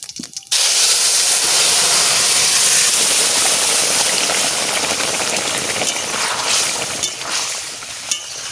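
Whole cumin and bay leaves dropped into hot oil burst into a loud, close, continuous hiss that starts abruptly and keeps sizzling steadily, with a few faint clinks near the end.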